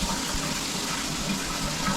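Water sprays steadily from a shower head, a dense continuous hiss running unbroken and fairly loud.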